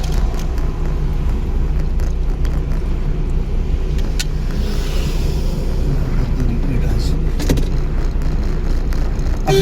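A car engine runs and rises in revs during a driving lesson on a road, a loud steady drone close inside the cabin, with an instructor talking over it.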